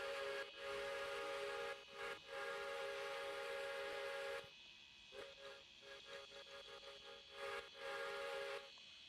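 Steam whistle of Pere Marquette steam locomotive No. 1225 blowing loud and close in long sustained blasts, with a brief break near the start and a drop in level midway before it sounds again.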